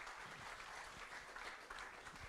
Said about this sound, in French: je vous demande d'applaudir Loris Baz